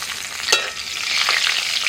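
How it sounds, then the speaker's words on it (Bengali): Hot oil sizzles steadily with a crackling hiss as black cumin and green chilies hit the pan, close and continuous, with a brief louder pop early on. "ওই তেলের মধ্যে ফোড়নে দিচ্ছি কালো জিরে কাঁচা লঙ্কা"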